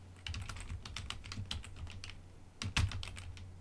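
Rapid keystrokes on a computer keyboard, a steady run of close, light clicks with a louder cluster near the end.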